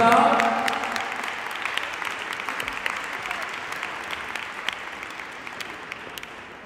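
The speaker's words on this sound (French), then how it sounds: "on les applaudit bien fort pour cette belle samba" Crowd applause at a youth Latin dance competition final after a samba, strong at first and gradually fading, with scattered individual claps standing out over the steady roar.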